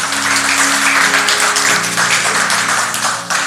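Applause from a church congregation, dense and steady throughout with a brief dip near the end, heard alone with musical tones underneath.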